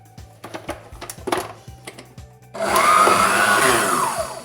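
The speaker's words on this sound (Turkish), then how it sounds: "Ve tekrar bir 2 dakika kadar çırpıyorum." An electric mixer whips clotted cream for a San Sebastian cheesecake, starting with a few clicks and taps, then settling into a steady, loud whirring drone with a rising and falling motor pitch.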